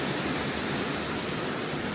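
The upper falls of Rock Run Falls pour in a steady, loud rush of water, an even broadband roar with no voices.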